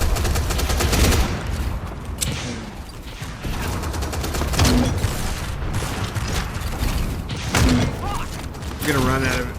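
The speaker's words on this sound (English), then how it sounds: "I'm getting shot in the back!" Rapid gunfire crackles throughout a match of Tribes 3: Rivals, repeated volleys and mechanical clatter layered densely, with a person talking over much of it.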